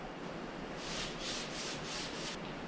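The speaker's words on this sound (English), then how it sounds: "So now I'm just gonna sand the few spots that I have." Hand sanding spots on painted trim with 220 grit sandpaper between finish coats of Pro Classic trim paint, heard as a run of soft, steady rasping strokes close by, about five in rhythmic succession, with no talk.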